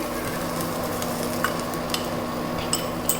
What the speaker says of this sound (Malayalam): ഇപ്പം ഇതിലേക്ക് നമുക്ക് നമ്മുടെ മുട്ട ഒഴിച്ചു കൊടുക്കാം